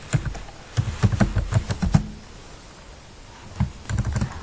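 Typing on a computer keyboard in quick irregular bursts of close, light key clicks, with a short pause in the middle before another flurry of keystrokes.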